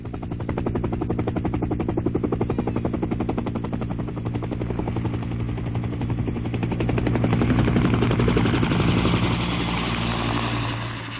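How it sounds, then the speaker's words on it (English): A helicopter runs loud and close throughout, its rotor making a steady rapid chop over a constant engine drone. "A helicopter ride, no less."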